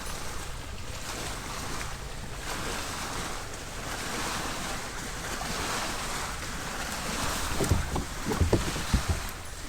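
Waves lap and slosh against a fishing boat on a reservoir during a fishing tournament, a steady broadband wash with wind, growing choppier and louder near the end with a few sharp knocks against the hull.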